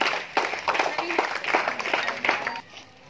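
A group of people clapping at a school textbook distribution event, a lively burst of scattered claps that rises and then fades, with voices mixed in.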